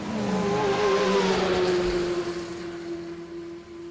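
Hot Wheels Ford GT toy car racing down a track, a loud continuous whirring roar with a steady high whine that holds for several seconds before easing slightly, no voices.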